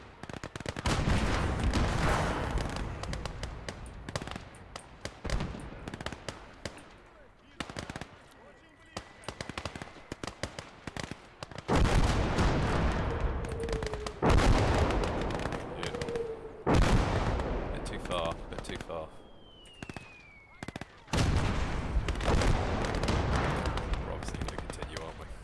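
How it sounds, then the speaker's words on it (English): Artillery shelling and gunfire rumble through Call to Arms: Gates of Hell, with repeated heavy blasts and rattling bursts coming in loud waves separated by quieter gaps, plus faint whistling tones between the explosions. "Keep shelling it. Just keep shelling it."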